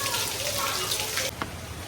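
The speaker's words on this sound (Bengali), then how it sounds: "বৃন্দাবনে ভয়ানক বৃষ্টি হচ্ছে" Heavy rain pouring in Vrindavan with rainwater rushing along, a dense continuous wash of water that drops slightly partway through, with a voice talking over it.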